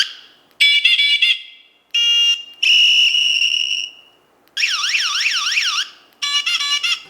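An alarm remote for an e-scooter sounds in several loud electronic patterns: warbling chirps, steady high tones and a rapidly sweeping siren, each burst separated by short silences, close and piercing with no talk.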